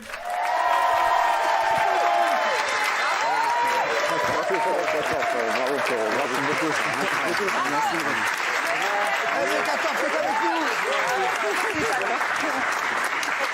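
A theatre audience claps and cheers after a performance, with loud, dense, sustained applause and scattered voices shouting over it, steady throughout.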